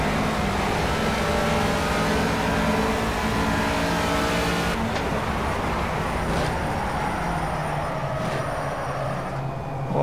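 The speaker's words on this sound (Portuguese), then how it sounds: "que troca de marcha perfeita" Race car engine in the Project CARS racing video game revving high, then dropping as it shifts gear near the midpoint before climbing again, loud and close, with continuous road and tyre noise beneath.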